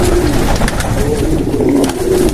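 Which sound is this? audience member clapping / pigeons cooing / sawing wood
pigeons cooing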